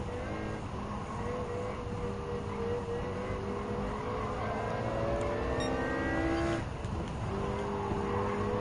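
McLaren MP4-12C race car engine in Gran Turismo 7 drones steadily at close range, with rising and falling engine tones as it accelerates and shifts, plus a brief swell near the end.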